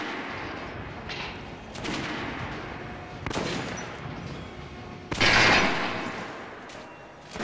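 Gunfire on a firing range in Metro Last Light, four loud separate shots spaced a second or two apart, each with a sharp crack and a rumbling tail, the last one the heaviest.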